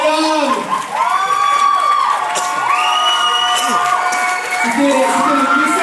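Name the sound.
audience applause and cheering after dance show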